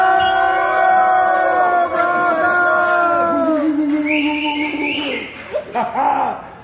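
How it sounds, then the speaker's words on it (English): A handbell rung in a car dealership to celebrate the sale of a 2022 Ford Bronco Wildtrak, giving loud ringing tones with long decaying overtones over crowd noise and cheering, which grow busier toward the end. "about to ring the bell"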